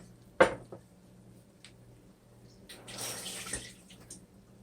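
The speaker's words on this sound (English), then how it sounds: "Rinsing my hand real quick." A kitchen tap runs briefly while hands are rinsed beneath it, giving a soft, close splash after a sharp knock and faint clatter.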